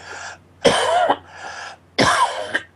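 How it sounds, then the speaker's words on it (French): A man with half a lung missing coughs in two heavy, hacking bursts, each preceded by a raspy inhalation, close and fairly loud. "Alors permettez-moi de tousser"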